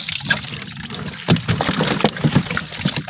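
Water sloshing and trickling as it is poured out on a boat during a lobster catch, a continuous, fairly loud splashing with a few heavier gushes and no talk.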